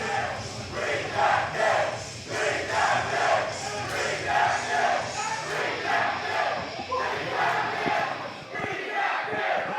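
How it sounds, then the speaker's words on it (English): A hyped indie wrestling crowd chants in loud rhythmic waves of massed voices, a dense roar surging and pulsing steadily for the whole stretch. "The crowd is hyped for the debut."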